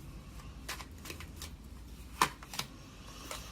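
Tarot cards being shuffled and drawn during a reading, soft riffling bursts with a few sharper snaps as cards are pulled, close and quiet with no talking.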